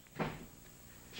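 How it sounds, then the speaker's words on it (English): A door bangs shut on a television studio set with a single thud, followed by quiet room tone. "the door slammed one more time."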